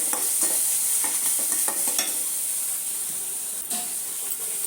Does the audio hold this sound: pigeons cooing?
no